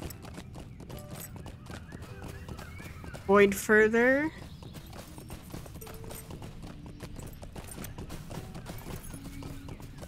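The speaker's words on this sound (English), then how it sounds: "Let me get on my horse." Horse hooves clip-clop steadily in the video game Lord of the Rings Online, a continuous rhythmic trot under ambient game sounds, with a brief loud whinny near the middle and a few spoken words.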